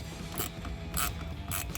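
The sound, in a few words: tightening an intake clamp onto a metal tube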